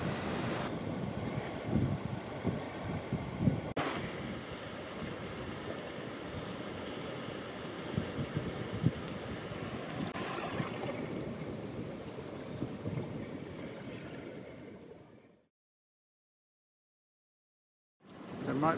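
A solo sailing boat under way in the Thames Estuary, heading for Bradwell Marina: steady broadband wind and water rush with sloshing waves against the hull, continuous for about fifteen seconds before a sudden silence and a brief return.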